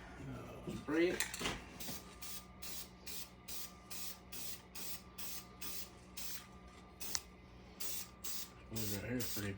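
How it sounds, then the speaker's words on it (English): Repeated short bursts of aerosol spray, a dozen or so evenly spaced hisses, with brief handling noises at the start and end. "Take it over here, spray it."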